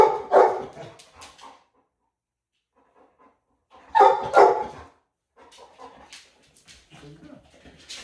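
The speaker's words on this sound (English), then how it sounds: "See how that barking works out for you." A dog barks and yips in short bursts, with a pause of quiet between two clusters and softer whimpering sounds afterward.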